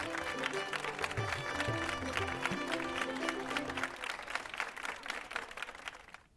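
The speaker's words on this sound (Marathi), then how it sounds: "त्यांनी केलेल्या या कामाबद्दल आपण सर्वजण त्यांचं टाळ्या वाजून कौतुक करूयात." A crowd claps together at a celebration on a Marathi TV serial set, dense, steady applause that begins at once, runs several seconds over a low musical bed and then tapers away.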